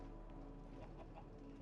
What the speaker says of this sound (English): I can't access those chickens.